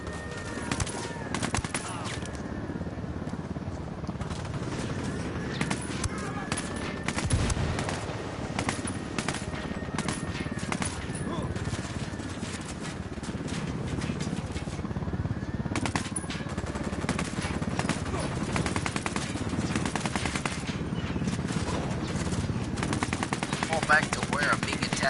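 Sustained automatic gunfire fills a Ghost Recon firefight, dense rapid bursts and single shots overlapping almost nonstop for the whole stretch, loud and close with scattered distant reports behind.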